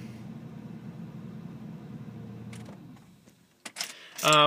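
A cold car engine idles a little high with a steady, moderately loud hum that fades out partway, followed by a few sharp clicks and knocks.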